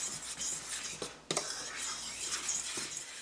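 A utensil scrapes and clinks against a bowl as flour, salt, baking powder and baking soda are mixed together, producing soft, irregular stirring sounds with a couple of sharper taps, close by.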